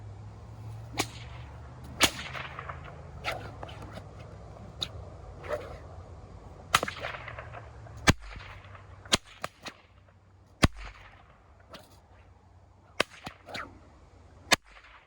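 An Indiana Jones style bullwhip with a dense body and a heavy heel knot cracks sharply again and again at irregular intervals, with the loud snaps standing out over a quiet outdoor background.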